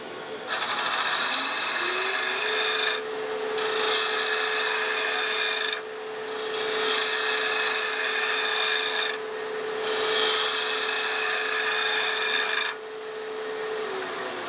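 A woodturning tool flipped and used as a scraper cuts wood on a lathe with a constant motor whine beneath, producing four loud raspy scraping passes separated by brief pauses, close up.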